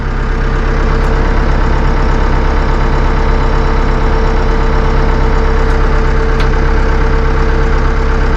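Massey Ferguson 2M.60 compact utility tractor with a 60.3 hp engine and eHydrostat transmission idling, heard from inside the closed deluxe cab as a steady, even low rumble with a faint mechanical hum and no talking.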